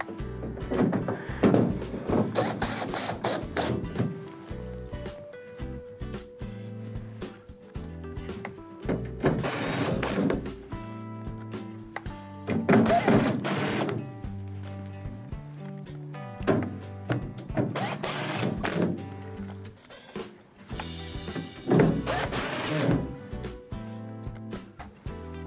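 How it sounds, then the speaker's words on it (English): Number two Phillips beveled screws being driven across the top of the outer wrap of a Whirlpool microwave, repeated bursts of whirring power-driver noise with scraping and clicks between them, close and fairly loud. "The next step is to secure the top of the actual wrap with the six beveled screws, and these are number two Phillips as well"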